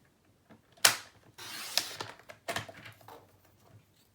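Scissors cutting a paper branding strip in half, a few close, crisp snips and rustling cuts spaced over a couple of seconds in an otherwise quiet setting.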